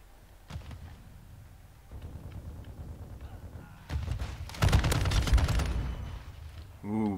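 Raal MG machine gun in Call of Duty: Modern Warfare II, scattered shots early, then a dense, loud sustained burst of rapid fire in the second half, with game ambience and a rising whine at the end.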